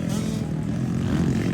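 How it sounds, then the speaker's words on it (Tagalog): Motocross motorcycle engine buzzing at a Mindanao ladies' open race, a steady loud drone heard briefly under an announcer's voice. "Habit ni Bali ang motor"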